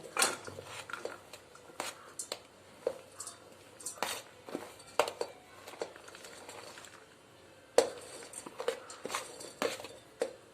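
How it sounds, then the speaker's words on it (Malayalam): A spoon scrapes and clinks against a bowl while homemade mayonnaise is stirred into vegetables, with soft wet squishes and irregular taps, quiet and close. "നമുക്കിതൊക്കെ ഒന്ന് മിക്സ് ചെയ്യാം."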